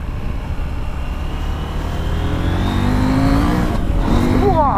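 A loud KTM SMT 890 motorcycle engine drones and revs up steadily, rising in pitch near the end with a brief whine, close and continuous throughout.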